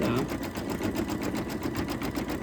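An embroidery machine stitches the tail area of a mouse design, running a steady, fast, even mechanical whir with a regular stitching pulse, close and continuous with no talking.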